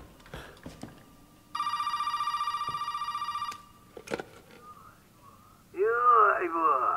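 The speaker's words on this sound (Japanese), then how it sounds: "電話、" Telephone ringing in the horror video game Resident Evil 7: a loud, continuous electronic ring lasting about two seconds, followed by clicks and then a voice speaking over a faint in-game ambience.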